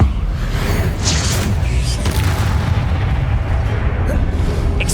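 Incendio and Levioso spells cast in Hogwarts Legacy, a dense rumbling burst of fiery blasts and whooshes that holds loud and steady across the whole stretch, with some talk mixed underneath.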